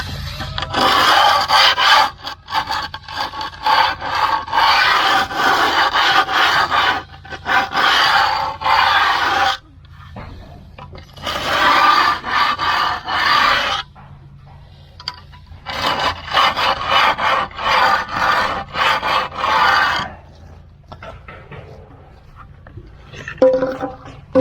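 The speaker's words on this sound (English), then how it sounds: "with all of our cuts in, rubbing up the concrete" Freshly cut concrete being rubbed up by hand, giving long, steady rasping scrub strokes in sustained bursts with short pauses between, close and fairly loud.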